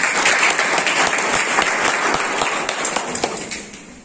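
Dense applause from an audience at an award distribution and book release ceremony, a loud, steady wash of many hands clapping that gradually thins and fades toward the end.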